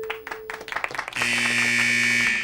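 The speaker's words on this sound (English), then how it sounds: "that buzzer means that time has expired in our game" A quiz show buzzer sounds at the close of a high school TV quiz match, a loud sustained harsh electronic blare following a brief patter of clapping.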